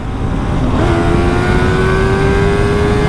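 Yamaha R3 motorcycle with quick shifter and performance ECU, engine screaming at high speed in fifth gear, a loud steady high-revving whine that climbs after a brief shift dip, heard up close without talk.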